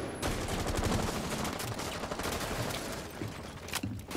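Rapid gunfire in the video game Rainbow Six Siege, loud bursts of automatic shots crackling almost without pause, close and dominant, no voices over it.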